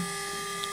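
A CNC Shark HD4 router carves a redwood sign during a V-carve pass, a steady high-pitched machine whine with stable tones holding alone throughout the short stretch.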